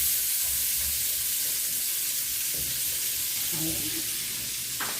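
Galunggong fish in sauce cooking in a home kitchen pan, a constant dense sizzle and hiss with occasional stirring clatter, while a voice speaks briefly over it.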